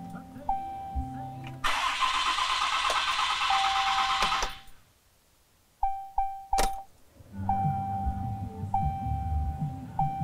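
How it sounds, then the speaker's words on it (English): A Dodge Cummins 6.7L diesel pickup with a Banks Monster-Ram intake cranks over and fires, then settles into a steady idle. After a short pause it starts again. The engine is close and loud, and people talk nearby. "So we're gonna go ahead and start the truck up"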